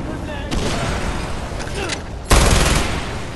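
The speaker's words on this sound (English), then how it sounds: "They just keep exploding themselves." Explosions in the Far Cry 4 video game, two sudden loud blasts over a constant rumble of game noise, the second heavier and followed by a lingering roar.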